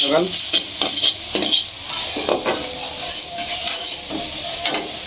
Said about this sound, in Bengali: সীমা এদিকে শাক রান্না করে আনতেছে